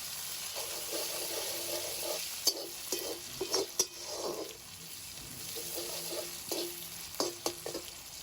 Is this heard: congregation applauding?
no